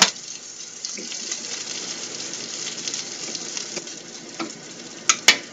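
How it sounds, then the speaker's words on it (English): Peppers and onions fry in a pan with a steady, close sizzle that runs throughout, broken by soft scrapes from stirring and a couple of sharper clinks near the end. No one speaks. "And you just keep stirring those peppers and onions until the onions start to look clear"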